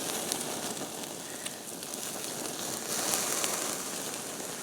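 Bacon cooks over an open campfire flame with a continuous crackling, spattering hiss, close and fairly loud, with small pops scattered throughout.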